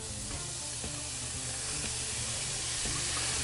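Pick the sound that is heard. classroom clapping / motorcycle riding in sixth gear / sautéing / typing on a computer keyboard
sautéing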